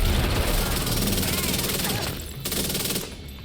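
Sustained rapid automatic gunfire in the shooter The Division 2, loud bursts running continuously before thinning out near the end, with talk faintly in the mix.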